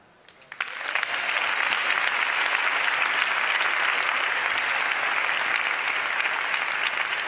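Audience at the Gaudí Awards gala bursts into sustained, loud, dense applause after a second of quiet, continuing steadily to the end with no talk.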